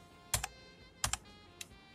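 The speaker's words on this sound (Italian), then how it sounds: "Carina sta tastiera, tipo da farci gli ASMR" Keystrokes tapped on a computer keyboard during a PC SSD swap, three short crisp bursts of clicks spaced about a second apart, close and alone in a quiet room.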